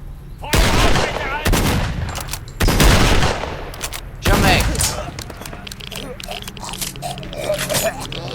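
Gunfire in the video game S.T.A.L.K.E.R.: Clear Sky: four loud, close bursts of shots arrive in quick succession, then give way to quieter rattling shots and clatter.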